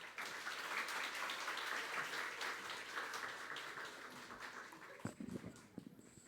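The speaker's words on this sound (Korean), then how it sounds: "이정현 목사님 나오실 때 박수로 환영하겠습니다" Sustained applause from a church congregation at a Korean-language service in Osaka fills the room for several seconds, steady and fairly loud, then thins out into scattered noise near the end.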